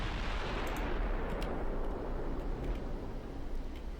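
Battleship guns fire in the Ultimate Admiral Dreadnoughts naval game, heavy rumbling booms and distant blasts rolling continuously over a dense low roar, with no voices.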